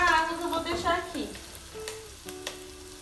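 Aromatics lightly fry in a pan with a soft, close sizzle that fades out, joined by faint tonal clinks and a few small knocks.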